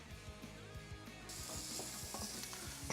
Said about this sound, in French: Un peu de beurre et direction la poêle.